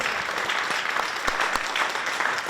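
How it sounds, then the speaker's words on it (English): Crowd applause for a pianist at a fiddlers variety show during a maple festival, a dense continuous patter of clapping with a few sharper individual claps standing out, moderately loud throughout the short stretch. "I would like everybody to give her a good round of applause"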